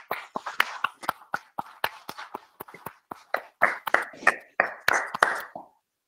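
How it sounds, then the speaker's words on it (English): Attendees at a California Transportation Commission meeting in Riverside applaud the commission staff with sparse, scattered hand claps from a small group, individual sharp claps ringing out irregularly in a quiet room before fading out. "have us all give a round of applause to the CTC staff"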